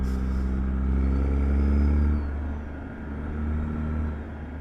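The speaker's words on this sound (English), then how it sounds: "Take the truck out to the street" A Peterbilt 389 pulls away in American Truck Simulator with a deep, steady engine rumble that swells over the first couple of seconds, eases off, then builds gently again. No one speaks.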